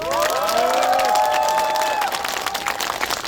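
Crowd applause and cheering at a press conference in Mapo, a loud continuous burst of clapping and voices that swells and then starts to thin out near the end.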